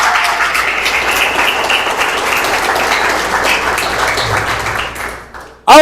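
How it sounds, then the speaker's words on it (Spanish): Church congregation applauding during a sermon, a loud sustained wash of clapping that fills the space for about five seconds before cutting off abruptly. "Le da un aplauso a Dios por su vida"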